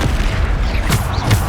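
A Bombarda spell detonates in Hogwarts Legacy, a deep booming blast with rumbling low end and a couple of sharp bursts layered over continuous combat noise, loud and close.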